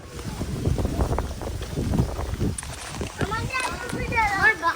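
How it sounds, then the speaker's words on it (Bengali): Gusty wind in an open riverside area buffets the microphone with low rumbling bursts while a person talks over it, the noise rising and falling unevenly. "কানের মধ্যে বাতাস কটকট করে তোর"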